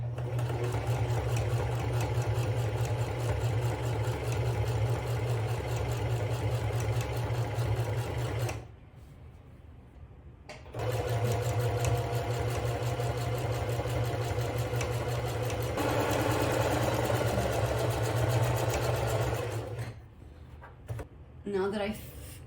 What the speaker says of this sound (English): I'm going to use the white chalk mark to be my guide to start sewing a straight stitch.